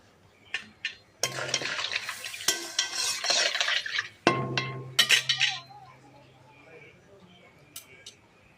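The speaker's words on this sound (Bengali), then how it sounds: "ঝোলটা ফুটে এসেছে" Rui fish curry broth with thick pui shak stalks and potato simmers in a pot while a ladle stirs and clinks against the metal sides, with soft bubbling as the stirring dies down.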